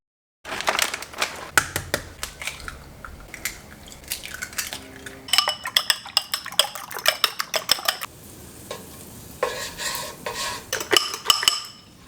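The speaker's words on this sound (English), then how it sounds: "The key to cooking good eggs is low heat, bringing it into the middle as it cooks, and then spreading it around and repeating the process." Scrambled eggs cook in a pan on low heat while a utensil repeatedly scrapes, taps and clatters against the pan in irregular bursts, close and fairly crisp with no talk.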